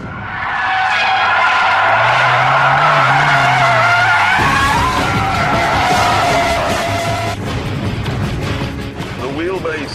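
A VW Golf GTI W12, a 650-horsepower mid-engined rear-wheel-drive prototype, slides with loud sustained tire squeal and roaring engine, the skid noise continuous and close throughout.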